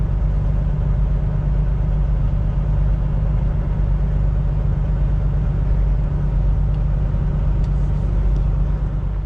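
A parked BMW car's engine runs at a steady idle, a loud, constant low rumble that stays close and even throughout, with no voices over it.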